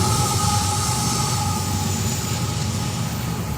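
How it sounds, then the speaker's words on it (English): A train rolls past at close range in downtown Fort Pierce, a loud steady rumble of wheels and cars with a faint high squeal riding on top, continuous for the whole stretch with no talking. "But hey, we got the train."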